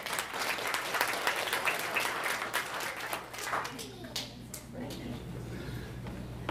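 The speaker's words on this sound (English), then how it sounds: "Getting applause." An indoor crowd at a memorial gathering claps steadily in dense, loud applause that thins out toward the end, with some voices murmuring underneath.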